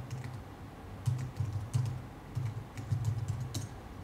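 Fast, steady typing on a computer keyboard, entering a link into a live-stream chat: light clicking keystrokes come in quick bursts, faint and close, with no talking.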